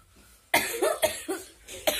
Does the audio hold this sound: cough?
yes